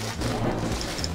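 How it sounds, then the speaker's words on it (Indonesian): Faint, low thunder rumbles during rain outside, heard softly and at a distance from indoors for a brief moment. "Kalau kalian kedengeran ada suara gluduk, lagi hujan di luar ya guys."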